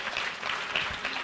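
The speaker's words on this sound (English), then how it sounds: "if I can have a round of applause for her" An audience claps together at an event honouring a designer, a dense, steady burst of applause filling the short stretch.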